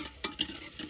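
Onion sautéing with ginger garlic paste in a pan, soft sizzling with a few sharp clicks of a spoon stirring against the pan, close and moderately quiet.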